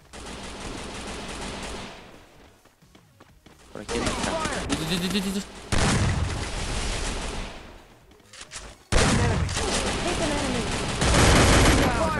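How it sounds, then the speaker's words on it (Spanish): Rapid gunfire bursts in the Free Fire battle-royale video game, loud bursts in several spells with a quiet gap, mixed with game sounds and a voice talking over parts. "Primer disparo."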